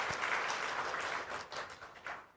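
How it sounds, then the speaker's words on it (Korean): Steady applause from a church congregation during a Korean Sunday service in Tashkent, dense clapping throughout, fading slightly toward the end. "박수하도록 하겠습니다."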